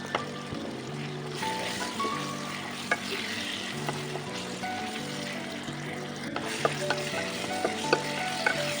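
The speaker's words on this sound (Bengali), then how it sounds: "গাজরটাও ভালো করে ভেজে দেব।" Chopped carrots and potatoes fry in a pan for vegetable noodles, a soft, steady sizzle broken by scraping stirs and scattered clinks of the spatula against the pan, with no one speaking.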